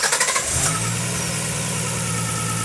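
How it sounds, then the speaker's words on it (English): A Nissan GT-R engine fitted in a Datsun 240Z starts up on a dyno: a few rapid cranking pulses, then it catches and settles into a loud, steady low idle rumble, close and alone. "I'm going to give it another start now and just have a listen to that first 2 or 3 seconds"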